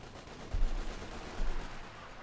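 Distant gunfire from a battle in the video game Company of Heroes 2, heard as two soft bursts over a steady noisy background, with no one talking.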